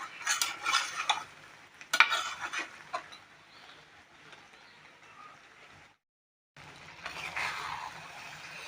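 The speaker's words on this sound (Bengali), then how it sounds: "ডালটা মাছের মাথা আর মশলার সাথে ভালো করে কষিয়ে নিয়েছি।" Moong dal, fish head and spices being stir-fried together in a pan, with scraping stirring strokes and a soft sizzle, louder bursts early on, a brief silent gap, then stirring resumes.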